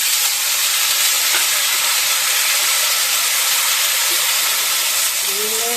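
Vegetables for bhaji hit hot oil in a pan, giving a steady loud sizzle and hiss that continues evenly throughout, with brief faint clinks near the end.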